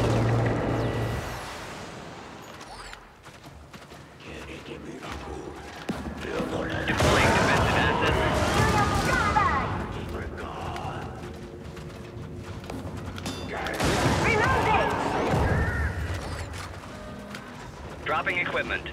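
Ordnance blasts and gunfire in a sci-fi shooter during a shuttle extraction, coming in two loud dense bursts of crashing impacts and rattling fire separated by quieter stretches, with speech over the action.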